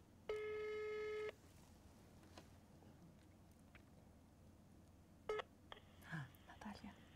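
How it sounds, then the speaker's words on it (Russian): A phone call is placed: a loud steady dial tone plays for about a second, then sparse touch-tone key beeps and a ringback tone follow, with faint handling noise. "Может быть, я неправильно просто цифру набрала."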